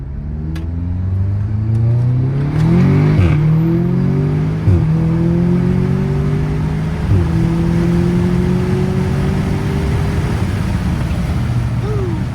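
An Audi S3 on a stage 2 tune with an upgraded high-pressure fuel pump accelerates hard, the engine climbing steadily through several gear shifts, each marked by a brief dip before it pulls again.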